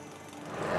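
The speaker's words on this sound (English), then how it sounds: "Ndawe directs the reverse circulation, or RC drilling team, to where the gold is likely to be." Reverse circulation drilling rig working at a B2Gold gold mine in Namibia, a steady mechanical rattle and hammering drone that swells slightly louder over a brief moment, heard close with no voices.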